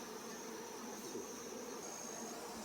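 A wild honey bee swarm in Hawai'i buzzes close by, a dense continuous hum of many wings with a steady high tone over it, no talking.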